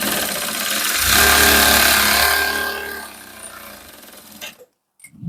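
A sewing machine stitching a seam on a sewn pouch, a loud steady whirring drone that runs for several seconds, fades, and then cuts off.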